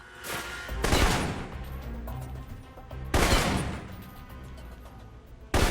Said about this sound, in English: For long-range encounters, the assault rifle's the key. It's accurate, powerful.